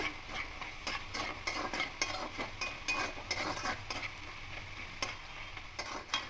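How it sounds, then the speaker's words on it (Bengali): Potatoes fry with poppy seeds in a pan, stirred with a utensil. Soft sizzling sits under a series of quiet, regular scraping and clinking strokes, fairly faint and close, with no voices. "পোস্তটা দিয়ে খুব ভালো করে আবারও একটু ভেজে নেব"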